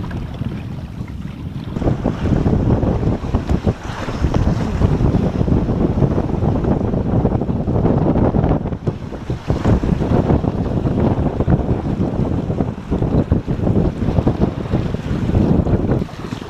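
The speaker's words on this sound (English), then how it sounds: "The wind's picking up, we're clipping along at 11 k's plus, and we're getting wet." Strong wind and rushing water around a small sailboat clipping along at about 11 km/h and throwing spray: a loud, continuous roar of wind buffeting the microphone over splashing, hissing water, steady throughout with no voices.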